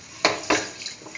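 Washed, soaked rice and chayote-cauliflower mixture being stirred in a pressure cooker, with two distinct scraping clanks of a utensil against the metal pot followed by softer rustling, close and fairly quiet, no talk.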